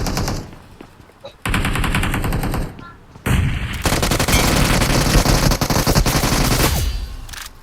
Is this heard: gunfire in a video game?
yes